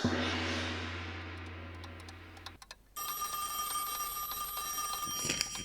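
A telephone rings in a Bengali cartoon: a steady electronic ring rises loud at first, cuts off briefly, then returns with bright ringing tones to the end, with no talk.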